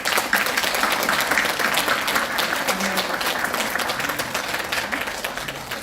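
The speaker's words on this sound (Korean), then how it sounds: "멤버 한번 박수 쳐주세요." A church congregation applauds the founding members at a Daejeon church's founding thanksgiving service, a steady dense wash of clapping that holds throughout and eases slightly toward the end.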